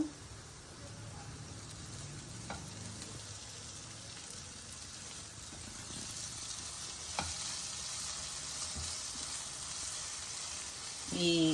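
Mutton gravy curry sizzles and bubbles steadily in a pan, a soft continuous frying hiss with occasional stirring clinks, close and fairly quiet.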